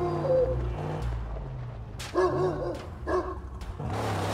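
A dog barks several times in the Mad Max video game, short sharp barks spaced over a few seconds against steady game ambience.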